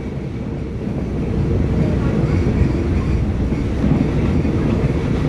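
A train on Thailand's Maeklong railway slows on its approach to Bang Tho Rat halt in Samut Sakhon, a steady loud rumble of wheels and carriage noise filling the whole stretch without letup.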